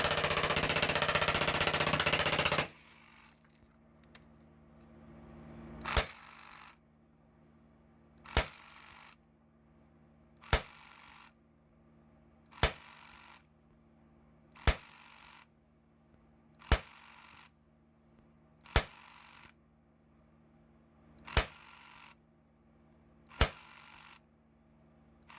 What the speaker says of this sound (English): shoot some full auto next to it, and then I'll put some rounds over the chronograph